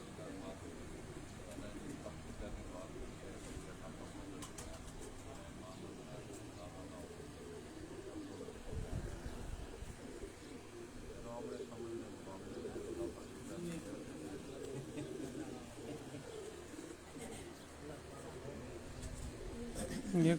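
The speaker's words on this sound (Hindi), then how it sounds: "ये सखी साहब के घर का है टेडी कबूतर" Teddy pigeons coo softly on a rooftop loft, a low steady murmur of calls running under people talking throughout.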